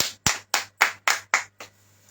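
A church congregation clapping together in seven sharp, evenly spaced claps, loud and close, then stopping.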